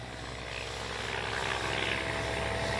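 A Freewing 70mm F9F Panther RC jet with an electric ducted fan roars overhead in a steady, broadband whoosh that swells slightly as it climbs high, heard alone without talk.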